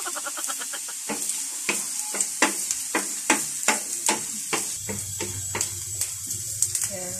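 Garlic sizzles in a hot pan while a utensil stirs and scrapes it in a quick, irregular rhythm of clacks, with a low hum entering near the end.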